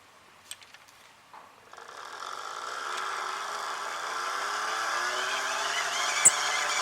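A hand-cranked megger insulation tester's generator whirs up from a few faint clicks into a steady, rising mechanical hum that builds over several seconds, with a sharp click near the end.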